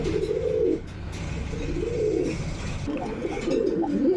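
Domestic pigeons of fancy breeds cooing in a loft, repeated low throaty coos in three bursts over a soft background murmur, close and clear with no talk.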